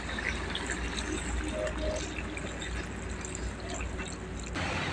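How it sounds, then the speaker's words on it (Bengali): Liquid poured into chicken curry in a pan, a continuous trickling splash under background noise that stops abruptly near the end. "এখন দিয়ে দেবো ঝোল।"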